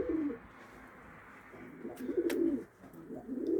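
Pigeons coo softly in a coop, low throaty calls rising and falling in a few bursts over a quiet background.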